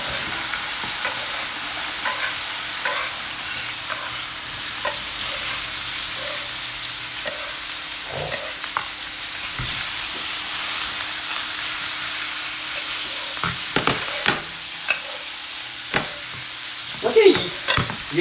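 Steak sears in butter in a hot pan, giving a continuous close sizzle with scattered spoon scrapes and clatters, the sharper knocks bunching toward the end. No one speaks over it.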